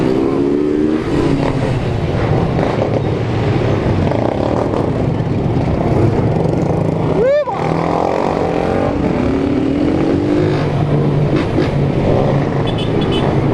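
A large pack of more than a hundred motorcycles rides past on a street in São Paulo's east side, engines droning and revving in a thick continuous roar, with one sharp rising rev standing out midway.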